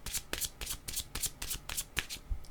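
Tarot-style cards shuffled for a card reading: a rapid, steady run of crisp riffling and slapping bursts, close and clear, with no talking over it.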